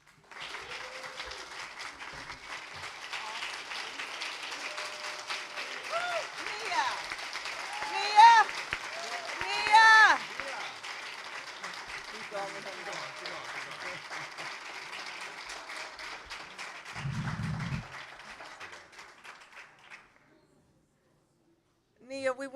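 A church audience at a Black History celebration breaks into sustained applause, long and fairly dense, with voices and cheers rising above it at moments before it fades out near the end.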